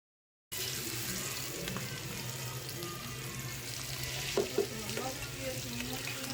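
Hilsa fish pieces sizzle in white oil in a kadai, a loud, continuous crackling hiss starting abruptly, with a few small pops and clinks near the end.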